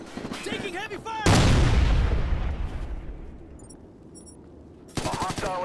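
Heavy gunfire in the shooter game Ghost Recon Future Soldier: a loud, sustained burst of shots and booming blasts that slowly fades, with game voice chatter heard before and after.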